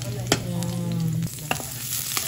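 Garlic sautéing in a hot pan, prepared for a Filipino-style ground pork menudo, with a steady close sizzle and a few sharp clanks and scrapes of a utensil stirring against the pan.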